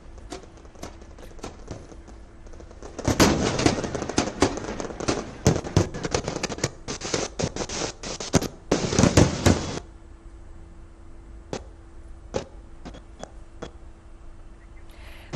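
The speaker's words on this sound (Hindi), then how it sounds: "और जैसा आपने जिक्र किया कि आतिशबाजी भी शुरू हो गई है" Fireworks bursting over the Ganges ghats in Varanasi during Dev Deepawali, rapid crackling volleys and sharp pops building into dense loud bursts, then thinning to scattered distant bangs.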